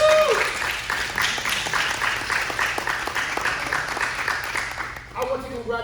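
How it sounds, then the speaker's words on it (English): Audience applause with cheering at a ballroom-scene town hall on mental health, steady dense clapping filling the room for about five seconds, then fading as a voice begins to speak. "Clap it up."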